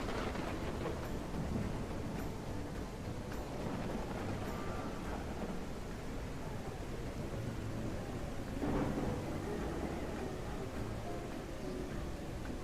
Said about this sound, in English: Now, the storms are really cool.